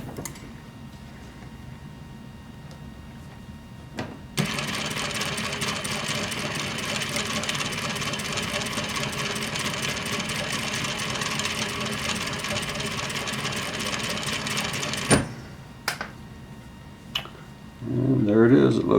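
Domestic sewing machine stitching a shoulder seam on a garment made from a Lutterloh pattern: a steady, loud mechanical whirr runs for about ten seconds, then stops, followed by quieter handling sounds and a short bump near the end.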